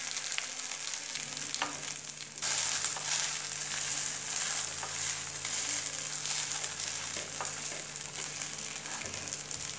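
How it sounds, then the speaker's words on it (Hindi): Rava uttapam frying on a low flame gives a steady, close sizzle and crackle with scattered soft pops and scraping stirs, continuous throughout without any talking. "दूसरी तरफ से भी हम इसे बिल्कुल लो फ्लेम पर ही सेकेंगे।"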